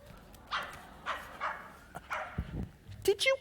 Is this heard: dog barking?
yes